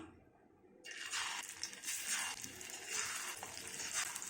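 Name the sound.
green plantain slices frying in oil on a tawa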